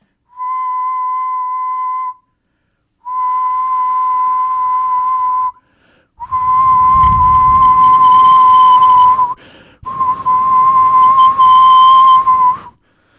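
A person whistles single steady tones into a microphone, two clean notes with pauses between, then louder blasts from closer range that turn harsh and distorted as the level overloads.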